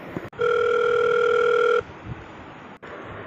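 A steady electronic telephone tone sounds for over a second, then cuts off abruptly, leaving quiet line noise and a click.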